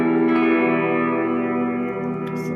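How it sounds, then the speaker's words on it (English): A sustained guitar chord played through a reverb pedal rings out drenched in lush reverb, its shimmering tail slowly fading with a faint pick noise near the end. "it's just a great sounding versatile reverb pedal"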